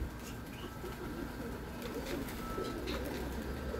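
Pigeons cooing on a windy day, soft low coos repeating through steady wind noise, with faint wingbeats and chirps now and then.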